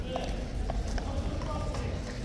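A few clip-clopping hoofbeats from a Life Guard horse being led back in by an officer, close and brief beneath murmuring voices nearby.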